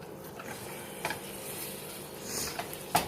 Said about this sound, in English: You're going to brown up the ground beef on medium-high heat